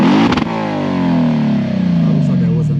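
A Lexus IS-F V8 revs hard with its exhaust cutouts closed, then its throaty note slowly winds down, deep and close, the pipes sounding muffled rather than open.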